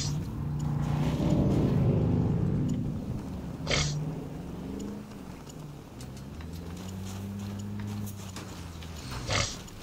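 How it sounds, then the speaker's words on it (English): Vehicle engine in Battlefield 2042 running steadily, with rising and falling revving tones that shift in pitch across the stretch, fairly loud and close, with a few brief clunks. "You sound like a damn race car."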